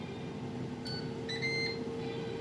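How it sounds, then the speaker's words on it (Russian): A Ninja AF180DE air fryer finishing with a short electronic beep, two brief high tones over a steady appliance hum and fan noise, with no talking. "он издает всего лишь один гудок, да, и все, аэрогриль выключается"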